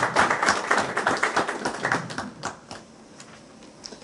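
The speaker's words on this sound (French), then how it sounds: "J'aimerais qu'on l'applaudisse." A small conference audience claps in a quick, uneven patter that fades after about two seconds, leaving a few scattered claps in a quiet room.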